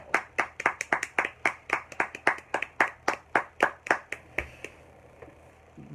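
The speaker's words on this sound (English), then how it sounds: "Everybody give him a round of applause." Audience applause at a talk-show style event comes as about twenty sharp, evenly spaced claps with a steady rhythm, close and crisp, tapering off at the end with no talking.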